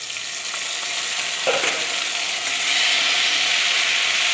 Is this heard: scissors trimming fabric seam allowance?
no